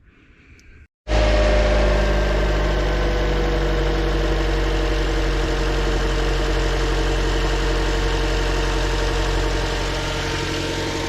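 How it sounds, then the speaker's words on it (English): A Toyota Corolla, checked for an alternator and weak-battery fault, cranks and fires after a brief quiet moment, then settles into a steady, loud, even idle hum that holds to the end. "I'll start the car up"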